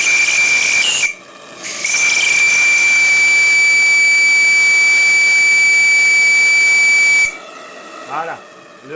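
A model steam engine's regulator whistles loudly with steam, a sustained shrill tone over steady hissing that drops out briefly, returns, then cuts off, leaving someone talking at the end.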